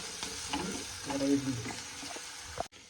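Onion and tomato frying with curry leaves, ginger, garlic and chili in hot oil, a steady close sizzle with stirring clatter throughout, briefly cut off at the end.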